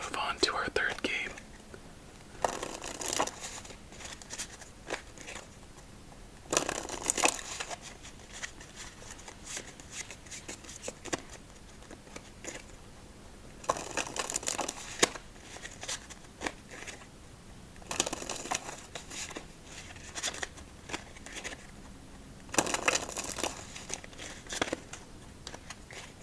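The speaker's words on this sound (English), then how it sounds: "So let's shuffle up these cards and move on to our third game." Playing cards from a Bruce Lee themed deck being shuffled by hand at close range, several bursts of crisp riffling and bridging separated by short pauses, with soft whispering between them.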